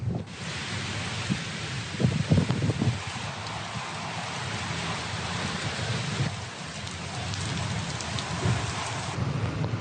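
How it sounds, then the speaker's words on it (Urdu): A thunderstorm over northwestern Pakistan brings heavy rain with strong winds, a steady dense hiss of rainfall under low rolling thunder that swells around the early seconds, with no voices. "تیز ہواؤں اور گرج چمک کے ساتھ بارش کا سلسلہ جاری ہے۔"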